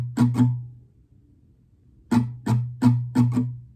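Acoustic guitar strumming an easy pattern from the song as played in the bridge: two quick strums, a pause, then four evenly spaced strums, close and clear with no voices.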